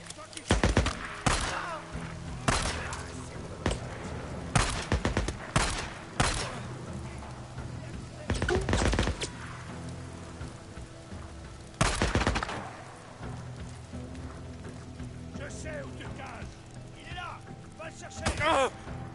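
Sniper and other gunfire ring out in the video game Days Gone, a string of loud, sharp shots at irregular intervals over a low background, with a voice talking briefly in between.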